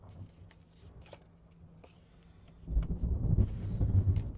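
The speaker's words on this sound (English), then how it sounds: "And there's thunder, you guys." Distant thunder starts quietly with faint rumbles, then a deeper rolling boom swells and carries on for several seconds, low and heavy under scattered small tapping sounds indoors.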